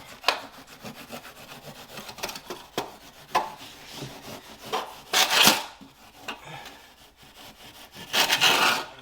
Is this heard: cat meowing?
no